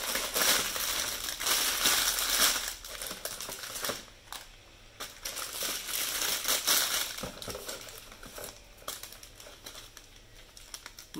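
Plastic bags of LEGO bricks crinkle and rustle up close as a box is unpacked, in bursts of crackling separated by brief quieter pauses.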